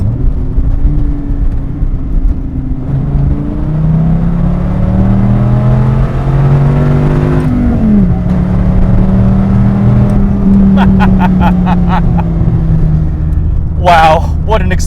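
A 2008 Dodge Viper ACR on damp roads with slick tires roars from inside the car, its engine pitch sweeping up and dropping through gear changes, with a burst of sharp clicks near the end.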